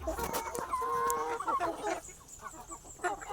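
Plucker x Aseel chickens on a range cluck and squawk nearby in a short, busy burst of overlapping calls.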